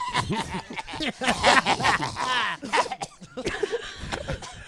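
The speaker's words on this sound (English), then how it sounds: "Now they're just really coughing." Several people cough in bursts, mixed with snickers and chuckles, loud and close, overlapping in a rough, busy stretch.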